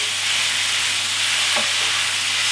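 A constant, bright sizzle of egg noodles and vegetables with soy sauce and garlic frying in a pan, with one faint clink partway through.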